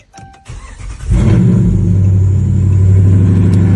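A 2013 Dodge Durango started with its push-to-start button: a few clicks and a brief cranking whir, then the engine catches and settles into a loud, steady idle rumble.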